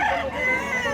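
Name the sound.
rooster crowing, a gamecock for sale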